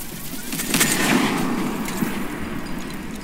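Rapid gunfire from a video game shooting match, a dense burst of shots over roughly three seconds at steady, moderate loudness with no talking.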